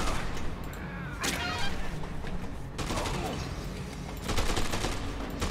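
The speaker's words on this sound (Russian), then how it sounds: "Но автомат тоже неплохо работает. По ногам, если стрелять." Automatic rifle fire in the video game Dead Rising 2, with bursts of rapid shots recurring over several seconds amid game noise and brief talk.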